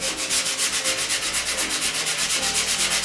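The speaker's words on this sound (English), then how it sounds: "I'm going to come after it with my 80 grit." Hand sanding with coarse 80 grit sandpaper during a custom restoration, producing a loud, close, continuous rasping scrape that pulses in quick, regular back-and-forth strokes with no voices.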